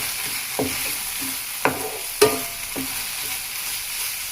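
A pinch of turmeric is stirred into tomato curry in a pan, with a few distinct scraping strokes of a spoon over a soft sizzle and no talking.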